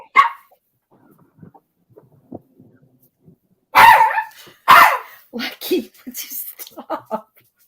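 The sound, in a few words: dog barking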